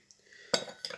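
A spoon stirs and clinks inside a glass of water, giving one short sharp clink followed by a second quieter tap within about a second.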